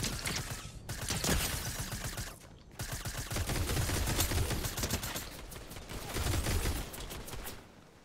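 Rapid bursts of video game gunfire from Fortnite rattle through most of the stretch, dense and loud with brief gaps between volleys, no voices over it.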